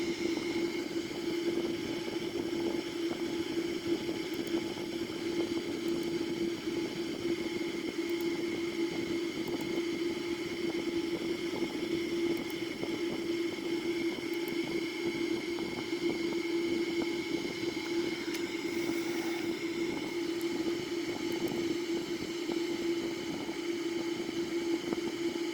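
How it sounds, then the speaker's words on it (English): Boeing 787 engines run in a flight simulator video game as a steady, unbroken hum with a constant tone and faint hiss, holding at the same level throughout with no talking. "start some of the engines here."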